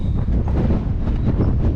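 Wind gusts across the Souris swing bridge, a loud, steady rumbling roar buffeting the microphone without pause.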